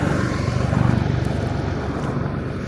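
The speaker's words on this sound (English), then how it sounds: "I guess there's a helicopter flying by." A helicopter flies by near a farm tractor with a liquid manure spreader, a loud pulsing rotor throb that rises and then eases slightly, with no talk.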